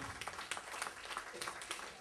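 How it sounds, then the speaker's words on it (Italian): Audience applauding the band at the MArteLive Sardegna arts event, a faint, distant wash of clapping. "Gli faccio un applauso a questi ragazzi"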